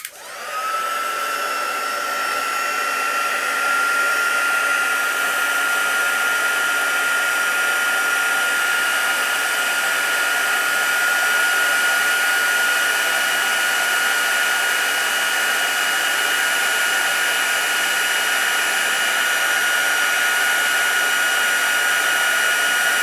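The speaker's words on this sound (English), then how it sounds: "now I'm going to get my heat tool over" A heat tool for card making blows hot air with a loud, steady, close whine that holds unbroken for over twenty seconds.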